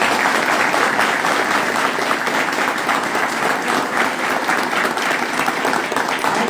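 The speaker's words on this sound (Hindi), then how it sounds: "ताली बजाओ एक बार।" Audience applause at a school Basant Panchami celebration, a steady dense wash of clapping from a large crowd that holds level for the whole stretch, with no talk over it.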